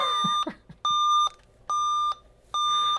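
An Alienware m15 R6 laptop with a corrupted BIOS emits four loud, evenly spaced electronic beeps on power-up, each a steady tone lasting about half a second, separated by short gaps.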